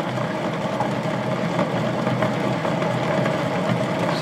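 A Bedini SG motor wheel spins at a few hundred RPM, making a steady, dense whirring drone that holds continuous and fairly loud throughout.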